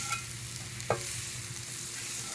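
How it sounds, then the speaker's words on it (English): BBQ chicken and noodles are scraped off a chimenea cooking surface into a pot, giving a sizzling, stirring scrape under a steady frying hiss, with one sharp metallic scrape standing out near the middle. "we're just going to scrape it off into my pot"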